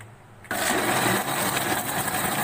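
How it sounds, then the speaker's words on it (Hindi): An electric grinder whirs loudly as it blends falsa berries with black salt for a chilled soda drink, kicking in abruptly and running steadily at full speed, close and alone. "अब हम करेंगे इसको अच्छी तरह ग्राइंड।"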